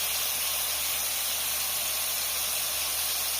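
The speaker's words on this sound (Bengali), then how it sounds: "এবারে ভাজবো, তেল দিচ্ছি, এই ভেজে নিচ্ছি" Soybean balls frying in a pan of oil give a steady, unbroken hiss and sizzle, close and fairly loud, with no voices over it.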